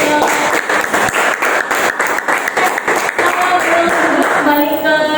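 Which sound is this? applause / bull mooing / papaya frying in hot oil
applause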